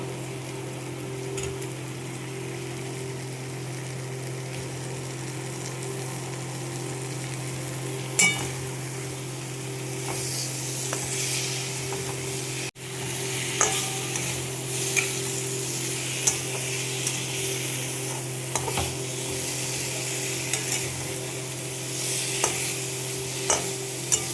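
Cauliflower stir-fries in a pan with sticking masala for a thin snakehead fish curry, a long, steady sizzle under repeated scraping and stirring, with occasional clinks of the utensil and a low hum behind.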